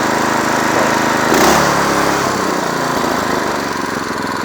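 A John Deere 826 snowblower with a swapped engine runs loud and close, giving a steady, even small-engine drone throughout.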